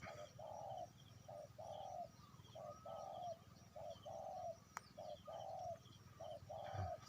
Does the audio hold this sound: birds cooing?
yes